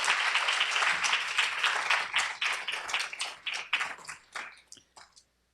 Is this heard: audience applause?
yes